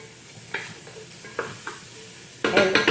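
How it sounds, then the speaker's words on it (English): Garlic and onions sauté in a pan for Moroccan harira soup, giving a soft sizzle with a few light spoon scrapes, then a louder burst of frying and stirring near the end, close up and with no voices. "while the garlic is sauteing"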